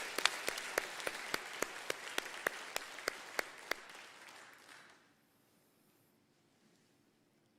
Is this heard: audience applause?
yes